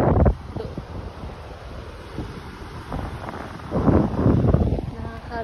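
Wind buffets the microphone at the seaside, with waves washing in the background. There are louder gusts near the start and again toward the end, and occasional voices sound faintly.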